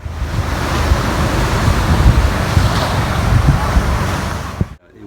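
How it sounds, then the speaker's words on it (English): Strong wind roars across the microphone while ocean waves break along a coast beside an old World War II seawall at an RV park. The sound is a dense, loud, continuous rush that cuts off abruptly at the end. "the wind and the waves are very loud"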